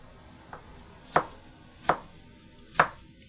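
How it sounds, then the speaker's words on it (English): A knife chops through a whole onion on a board, with three distinct, crisp strikes, plus one fainter tap, spaced under a second apart in a quiet kitchen. "I'm cutting up a whole onion"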